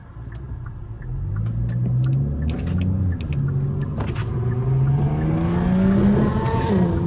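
A Kia Forte GT's engine drones steadily and close, its pitch rising and falling as paddle shifters step it up and down through gears, with a few sharp clicks and knocks over the hum.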